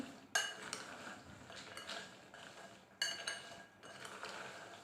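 Salted cashew nuts tossed with black pepper in a pan, stirred with a metal spoon that gives sharp clinks and scrapes against the pan in two bursts, close and moderately loud, with no talking.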